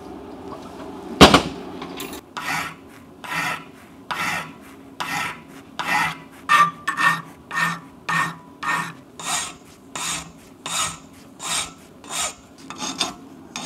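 A wooden cockpit side for a Tiger Cub aircraft being sanded by hand in a workshop: after a sharp knock, a long series of rhythmic rasping strokes, close and fairly loud, steadily repeating with no talking.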